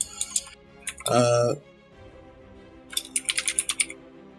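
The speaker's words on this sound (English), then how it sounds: "Aggressive tipper-tapper typing." Fast, aggressive typing on a computer keyboard, with bursts of sharp clicking keystrokes near the start and again toward the end, separated by a loud voiced sound in the middle.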